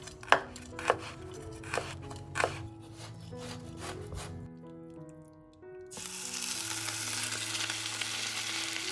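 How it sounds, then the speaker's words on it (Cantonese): Garlic chopped with a knife on a cutting board, a string of sharp, close knocks at an uneven pace, then a pause before a loud frying sizzle takes over. "咁我而家切咗啲蒜頭先。"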